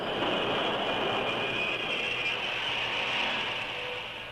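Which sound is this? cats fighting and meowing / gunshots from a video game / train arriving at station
train arriving at station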